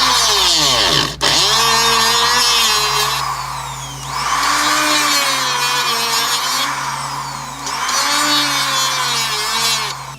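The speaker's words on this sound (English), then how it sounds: "we're gonna use a little Dremel and just cut everything out" A Dremel rotary tool cuts through a plastic car dashboard in a BMW 335i, a loud high-pitched whine that dips and rises in pitch as the bit bites and frees, steady and close.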